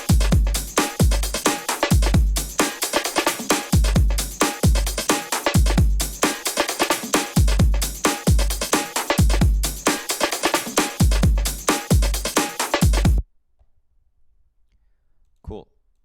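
Processed future garage breakbeat drums, a loud mix of skippy kicks, snares and crisp hats in a shuffling rhythm that runs for about thirteen seconds and then stops dead, leaving near silence and a brief soft bump.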